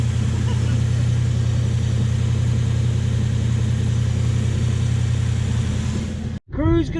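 Car engine running steadily and loud with a deep rumbling drone, then briefly dropping out before revving back up near the end; voices talk over it.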